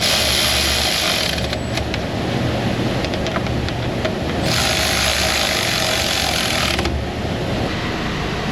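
A power drill runs loud and close, driving wood screws into a car's radiator tank, with whirring bursts broken by short ratcheting clicks and pauses, and no voices.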